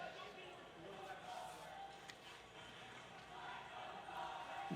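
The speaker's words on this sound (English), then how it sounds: "The Campbell County crowd comes alive." Crowd in the stands roaring during a state wrestling championship match for Campbell County, a broad sustained cheer that holds steady and swells slightly near the end, with a few sharp shouts and thuds within it.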